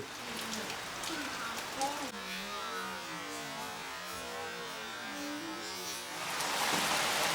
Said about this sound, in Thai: ตอนนี้ฝนตก นะครับ แต่ว่าไม่หนักมาก